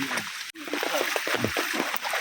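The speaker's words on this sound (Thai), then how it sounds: "ทางในป่านะฮะมีน้ำไหลแบบนี้ นี่เป็นทางทรายนะฮะ" Water flows over a sandy trail through a forest, giving a steady splashing, rushing wash with a voice talking over it the whole time.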